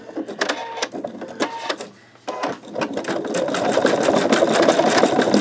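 Embroidery machine stitching a sugar skull design, fast rhythmic mechanical stitching with clicking bursts, a brief pause, then a steady continuous run close up.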